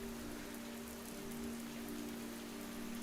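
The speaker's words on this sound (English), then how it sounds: "It's raining outside the tree. The rain and wind blow in from the cracks." Steady rain and wind blowing in through cracks in a tree hollow, a constant dense wash of falling rain with a low hum, even and unbroken throughout.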